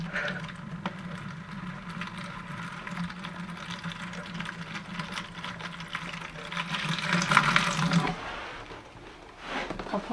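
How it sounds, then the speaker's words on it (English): Steady trickle of water pouring into a houseplant's saucer, continuous for several seconds, with a brief louder splash near the end before it tapers off. "Just adding the water to the base."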